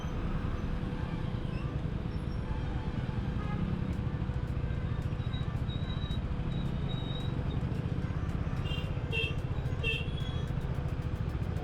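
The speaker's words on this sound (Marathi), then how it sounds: "एवढी ट्रॅफिक आहे चाकणमध्ये।" Road traffic in Chakan with cars and trucks, a steady low engine rumble and road noise from vehicles passing close, with faint scattered ticking and clicks, and no speech.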